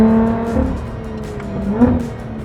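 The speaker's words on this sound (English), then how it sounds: "you'll rev it up and grab the gear" A car with a torque converter automatic transmission revs up in sport mode on a downshift, the engine note rising and climbing twice, close and loud with no talk.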